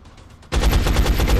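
Gunfire from a soldier's weapon in the turn-based strategy game XCOM: Enemy Unknown, starting abruptly after a quiet moment and continuing as a loud, dense burst of rapid shots that fills the rest of the clip.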